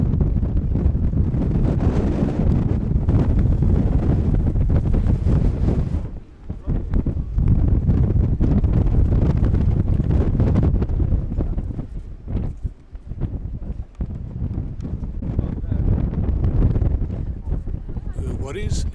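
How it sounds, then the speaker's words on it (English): Heavy wind buffeting a microphone outdoors in Athens, producing a constant low rumbling roar with gusty surges and a brief lull near the middle. "Today is a windy day"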